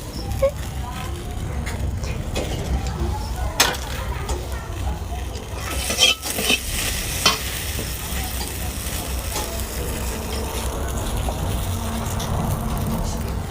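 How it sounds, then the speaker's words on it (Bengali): Okra frying in a pan at an outdoor cooking gathering, a constant crackling sizzle with stirring scrapes and a few sharp clatters, while people talk nearby. "দেখো মাসি এদিকে কি ভাজছে, এটা ঢেঁড়স।"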